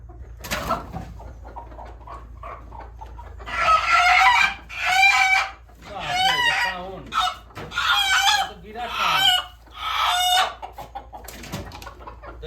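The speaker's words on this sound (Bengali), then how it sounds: "দুই হাতে দুইটা মোরগ একদম বাড়ির পোষা মোরগ এগুলো আর কি একদম দেশি মোরগ" A pair of native household roosters, held by hand, cluck and crow in a run of loud, close bursts. The calls repeat every second or so through the second half, after a quieter start.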